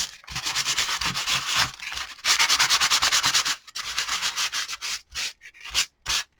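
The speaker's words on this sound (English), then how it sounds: "I'm going to use a little bit of sandpaper" Sandpaper rubbed over a paper junk journal collage page to distress it, a close, loud rasping scrape in rhythmic back-and-forth strokes with a few brief pauses.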